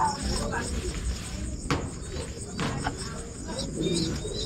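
Racing pigeons in a loft coo softly in short, repeated calls, with faint insect-like chirping and a person talking over the birds.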